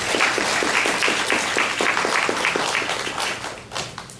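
A seated audience at a Portland race talk breaks into applause, a dense wash of many hands clapping steadily at close range, thinning slightly toward the end.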